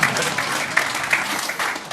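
A UK political leadership debate audience bursts into dense, steady applause, a continuous wash of many hands clapping at fairly close range for a couple of seconds.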